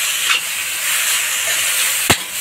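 Carrots fry in hot ghee in a wok while preparing gajar barfi, a steady bright sizzling hiss throughout, with a sharp clatter near the end.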